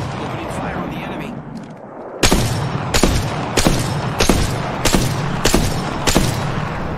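Gunfire in the battle royale game Apex Legends cracks out as a loud, close series of heavy shots at a regular pace after a quieter stretch with background noise.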